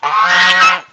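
A single loud goose honk, close by, drawn out for most of a second before cutting off.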